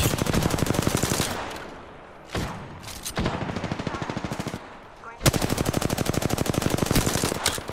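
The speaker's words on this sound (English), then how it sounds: "Someone else shooting." Sustained automatic gunfire in Apex Legends, loud rapid bursts filling most of the stretch, with brief pauses and single shots between two long volleys, no talking.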